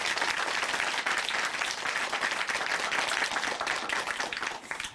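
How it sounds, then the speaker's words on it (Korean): A church congregation gives loud, sustained applause after a testimony, dense clapping throughout that fades slightly at the end. "다시 한번 큰 박수 보내드리겠습니다"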